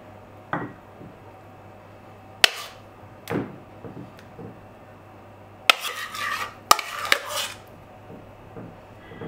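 Spoon scraping and clinking against a dish while pudding is spooned over biscuits for a cake, scattered soft taps and a few sharp metallic clinks, close up with no talking.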